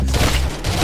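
A short, dense burst of rapid gunfire from a gun in the Roblox game Arsenal is loud and close, with shots running together for under a second.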